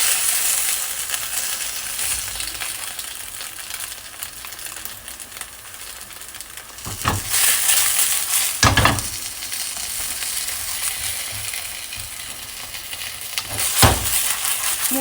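Dumplings fry in a pan with only a little oil, giving a loud, continuous sizzle, with several sharp scraping bursts as the pan is shaken and moved.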